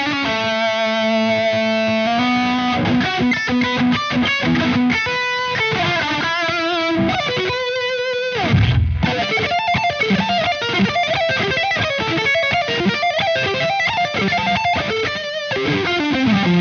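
An electric guitar played through a Synergy Bogner Uberschall high-gain amp module: thick, saturated distorted lead tone with sustained notes and quick melodic runs, loud and continuous with no talking.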